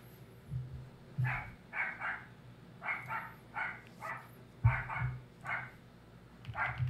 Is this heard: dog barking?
yes